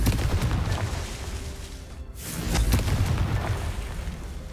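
Fiery Confringo spell blasts in Hogwarts Legacy on PS5, a rumbling explosive burst that dips briefly before a second loud boom swells and settles into lingering crackle, no talking.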